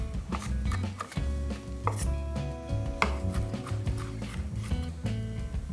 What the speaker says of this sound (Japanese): これらを粗みじんに